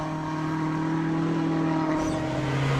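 A Peugeot rally car drives a stage at Rally Finland, its engine holding a steady loud drone at constant revs throughout, with no voices.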